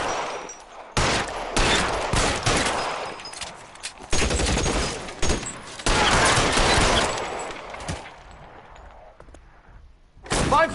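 Heavy gunfire rattles through a police shootout in the video game L.A. Noire, with loud bursts and volleys of shots that keep returning and swell into dense exchanges before thinning out near the end.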